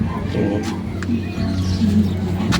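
Birds coo softly and close by while being fed, low repeated cooing with a few faint chirps over a steady background hum.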